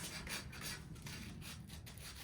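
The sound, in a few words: sanding painted surface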